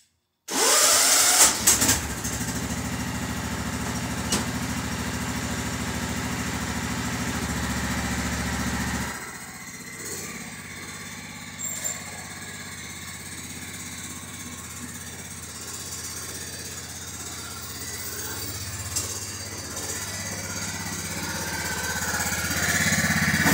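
A Husqvarna weedeater's two-stroke engine runs steadily and loud at first, then drops to a quieter, uneven idle with small sputters, its carburetor lacking a mixture screw.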